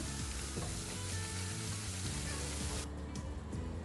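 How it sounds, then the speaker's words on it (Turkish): Tulumba dough sizzles and crackles steadily in hot oil, a dense, close frying hiss that continues throughout. "Yağ kızardıkça tulumbalarım yüzeye çıkmaya başlıyorlar."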